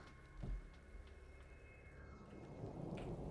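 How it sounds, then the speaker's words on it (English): Rain and rumbling thunder make up the ambience of a StarCraft II game map, with a soft steady hiss of rainfall, a low thunder roll near the start and a swelling rumble toward the end, quiet and distant. "Am I hearing a thunderstorm in this map?"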